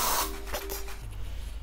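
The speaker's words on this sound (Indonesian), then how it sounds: "Biar sedikit wanginya aku mau semprot dulu." Face mist sprayed onto the face before a charcoal mask, heard as one short, near spray burst and faint hiss in a quiet room.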